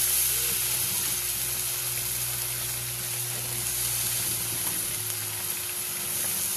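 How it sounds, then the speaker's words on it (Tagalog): Vegetables and sardines sautéing in a hot pan, a steady loud sizzle and hiss with a low hum underneath, continuous throughout with no talking. "Sahugan natin gulay, guys. Sardinas with gulay."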